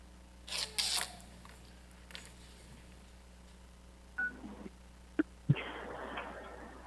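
Telephone keypad tones dial *6 to unmute during a city council meeting call, a few short beeps standing out over a quiet line with faint background hiss.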